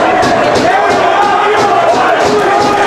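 Dense crowd roar fills a college hockey arena during a West Virginia University versus Duquesne game, loud and steady throughout, with commentators talking over it.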